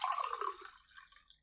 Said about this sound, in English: And now, pour the milk into your cup.